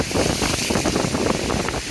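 A constant, loud roar of wind and lake waves splashing onto a boardwalk at Indiana Dunes National Park, heavy and unbroken throughout.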